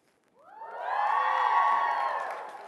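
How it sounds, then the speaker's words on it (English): Audience at an author's talk bursts into loud, sustained cheering and whooping, swelling in after a brief quiet start, holding strong, then tapering slightly at the end. "So as I put my hand over their head, you guys cheer."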